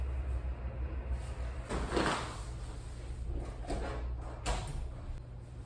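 A laundry dryer door being handled, with a soft thud of it swinging and a couple of sharper clicks and knocks as it closes, set against a steady low hum in a laundry room.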